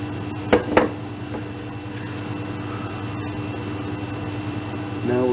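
A baking pan of blondie batter is dropped onto a counter to level it, giving two quick metallic knocks close together near the start, then only a low kitchen hum.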